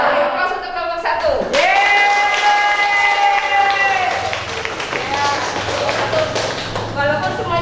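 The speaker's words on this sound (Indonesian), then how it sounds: "Ayo, aplaus untuk kelompok 1." A classroom group applauds for group 1, with a burst of clapping and cheering voices that rises together, stays loud for several seconds and then thins into scattered claps and chatter.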